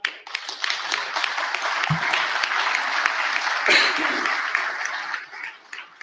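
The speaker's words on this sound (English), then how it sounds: "This round of applause goes to that 2 rows of people" Convention audience applauding in a hall, steady dense clapping from a sizeable crowd that holds for several seconds before tailing off, with a few faint voices mixed in.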